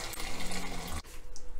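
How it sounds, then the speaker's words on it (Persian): Hot water poured from a kettle into a pot in a kitchen, ready for cleaning tripe: a dense, steady splashing rush for about a second that cuts off abruptly, then a softer trickle. "برای شروع یک کتر آب گرم رو من داخل این قابلمه میریزم"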